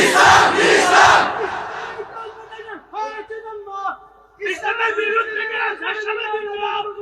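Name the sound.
crowd shouting in response at a religious sermon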